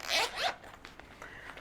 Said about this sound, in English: Even the little zipper has the Scion logo on it